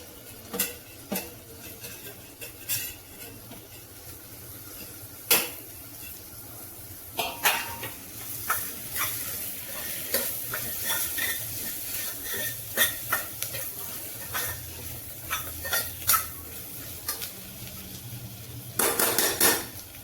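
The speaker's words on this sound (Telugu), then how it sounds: "ఇప్పుడు కొత్తిమీర వేసి మిక్స్ చేసుకున్నాము" Chopped coriander being stirred into frying tomatoes for methi pulao, a steady run of scraping and clinking of a spoon against the pan with scattered louder knocks, close and alone.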